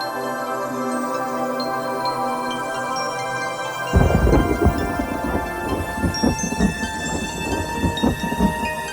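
Steady monsoon rain in the forests of Coorg, India hisses, then a loud roll of thunder breaks in and rumbles on over the downpour, close and heavy.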